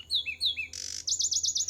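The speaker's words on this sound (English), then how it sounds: "The same is true of the Zapata wren. Though ordinary in appearance, this songbird, with its melodic call," Zapata wren, a Cuban songbird, singing close and clear: a few whistled phrases, a short buzzy note, then a quick run of repeated bright trills.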